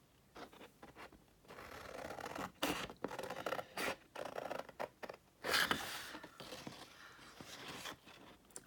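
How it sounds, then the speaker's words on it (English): Scissors snip through paper along score lines in a papercraft project, giving a run of close, dry scratchy cuts with short pauses between strokes, alone without talk. "that's where I'm cutting on the score line"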